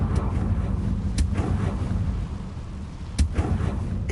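A Confringo fire spell explodes in Hogwarts Legacy, rumbling low booms with sharp cracks around one and three seconds into the clip, heavy and close over a continuous dull roar.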